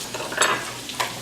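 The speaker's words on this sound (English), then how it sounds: "Now with this onion, we want to let this sit here and simmer until it kind of gets a translucent look to it." Onion simmering with sausage in a pan, a soft steady sizzle with a few scraping stir strokes near the start and end, close and moderately loud, no talking.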